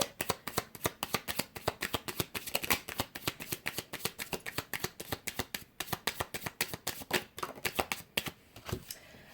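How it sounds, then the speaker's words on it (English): A Romance Angel Oracle card deck is shuffled by hand close up, a steady run of quick soft riffling flaps repeating for several seconds with no voice. "we are going to pull some cards from the Romance Angel Oracle deck here"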